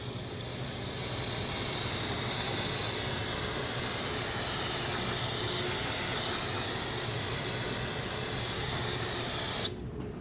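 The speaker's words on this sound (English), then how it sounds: "use brake parts cleaner, get all the rust and dust and debris off of here" Aerosol brake parts cleaner sprays in one long continuous hiss onto the rear brake hub of a 2014-2019 Cadillac CTS, loud and close, stopping abruptly near the end.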